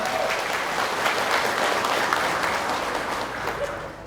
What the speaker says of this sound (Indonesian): berikan tepuk tangan terbaik Anda kepada diri Anda